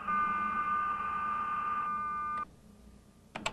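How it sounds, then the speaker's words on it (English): Two high-speed modems connecting over an international phone line: a steady, bright handshake tone holds for about two seconds, then cuts off, leaving a quiet hiss before a couple of short sharp bursts. "Now these two high-speed modems are interconnecting."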